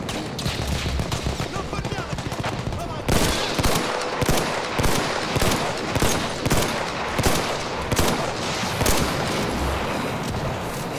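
Rapid bursts of machine gun fire ring out in a World War I shooter game, Battlefield 1, loud and nearly continuous, with distant battle noise beneath and a voice talking in places.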